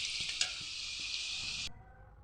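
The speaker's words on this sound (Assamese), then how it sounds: "সেইকাৰণে মই আলুখিনি অকণমান ভাজি ল'ম।" Potato pieces fry in hot oil with a loud, steady hiss and a few light stirring knocks, and the sizzle cuts off abruptly after a second and a half.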